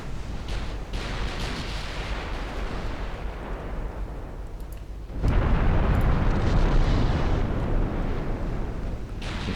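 Continuous rumbling warship gunfire and explosions from the naval battle game Ultimate Admiral Dreadnoughts, dense and roaring with overlapping booms that swell louder halfway through, with no talking.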